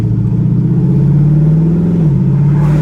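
An LS V8-swapped Toyota Prius on its first drive with a new 1000HP transmission gives a loud, steady engine drone from inside the car that holds pitch, then dips briefly as it shifts near the end.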